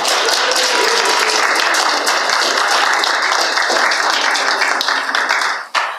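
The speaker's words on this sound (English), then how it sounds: "You clap." Steady audience applause fills the room during a holiday-season church service, dense and continuous for several seconds before dropping off sharply at the end.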